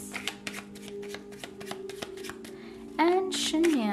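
Tarot cards are shuffled by hand with a rapid run of soft riffling slaps, close and fairly quiet, while a voice talks over them and a higher-pitched sound swoops in near the end.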